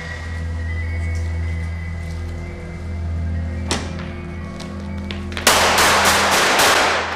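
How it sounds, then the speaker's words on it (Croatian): Gunfire in an underground parking garage, shot from behind a partition wall near a lift. A low steady hum runs throughout, then a single sharp crack, then a dense burst of rapid, loud shots near the end. "U njega je ispaljeno oko 25 hitaca."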